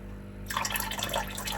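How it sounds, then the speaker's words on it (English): Water from a tap pouring into a bucket that holds pet supplies, starting abruptly and continuing as a steady, splashing stream close by with no one talking. "Okay, so let's start filling up the water."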